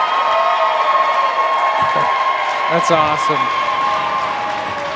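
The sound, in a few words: crowd erupting in cheers and applause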